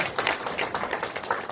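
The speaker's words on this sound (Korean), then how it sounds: "나오시는데 큰 박수 한번 좀 청취해 주십시오." An audience at a citizens' regional meeting in a hall claps, a brief burst of dense, even applause, moderately loud and alone.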